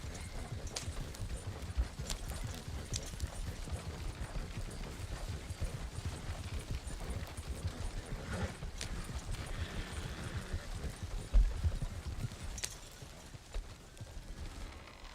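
Horse hooves clip-clop steadily in a Red Dead roleplay game, a continuous fast rhythmic beat of a ridden horse, moderately quiet and close, with a brief louder knock near the end and no talk.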